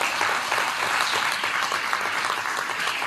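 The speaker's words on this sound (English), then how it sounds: "Give us our applause." A school audience at Western Primary School breaks into steady, dense applause, many hands clapping continuously at close range, with no break in the sound.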